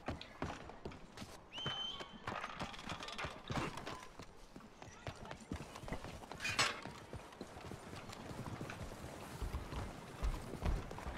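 Rapid hoofbeats clatter in a continuous galloping rhythm, with a horse whinnying briefly amid busy game-like background noise.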